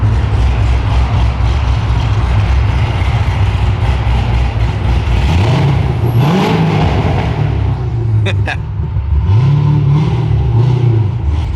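A Corvette Z06 with a big stage 3 cam idles choppy and lumpy, then blips its throttle in two sharp revs that rise and fall, close and loud inside the cabin.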